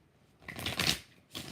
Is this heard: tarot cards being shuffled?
yes